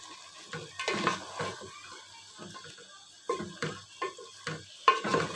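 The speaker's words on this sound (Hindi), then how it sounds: "हम अच्छे से मिक्स कर देंगे।" A spoon stirs chicken and capsicum in a pan, making soft, irregular scraping and clinking strokes in short clusters with quiet gaps between them, fairly faint and close, with no talking.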